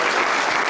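An audience claps continuously at a live comedy and poetry show, a loud dense burst of applause that is very brief.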